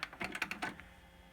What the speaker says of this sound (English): So I'll put a tape in,